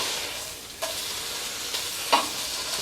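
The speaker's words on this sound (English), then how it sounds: "So while the bacon's cooking" Bacon frying in a pan, a close steady sizzle and crackle throughout with a few brief clinks of a utensil stirring.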